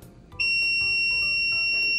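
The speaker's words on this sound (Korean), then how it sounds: "가까이 가면 화살표에 램프 표시가 나타나면서 삐소리가 함께 나거든요." Zircon multi-scanner detecting live electrical wiring sounds a sharp electronic beep that starts abruptly and then holds as a steady tone over faint background noise.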